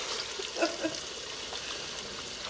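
Soft, steady sizzling of pork spare ribs frying in a pan on a stovetop for carnitas, a continuous crackling hiss with a couple of brief clinks near the start.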